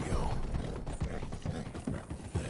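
Horse hooves clip-clop in a video game, a run of close, uneven knocking steps with a faint mechanical rattle, continuing steadily without speech.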